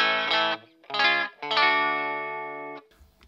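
Electric guitar through a Boss DS-1 distortion pedal plays three loud chords, the last one ringing out for over a second before a short scratchy noise at the end.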